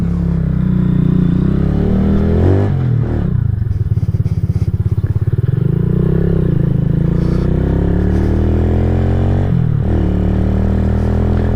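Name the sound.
KP Mini 150 motorcycle engine running with new muffler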